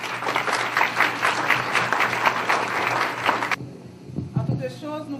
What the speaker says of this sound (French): nous pouvons l'applaudir chaudement